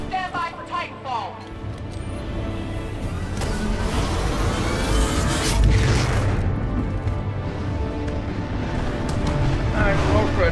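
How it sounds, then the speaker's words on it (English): A Titan crashing down onto the battlefield in Titanfall 2: a dense, loud rumbling roar that swells into a heavy booming impact, with engine-like whooshes and game noise throughout. "Stand by for Titanfall!"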